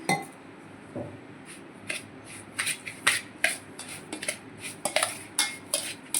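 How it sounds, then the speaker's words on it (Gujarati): A spoon mixes semolina batter in a bowl while buttermilk is poured in, producing a run of quick, irregular clinks and taps against the bowl, close and moderately loud with no talk. "થોડી થોડી છાશ રેડી લેશું અને મિક્સ કરતા રહીશું"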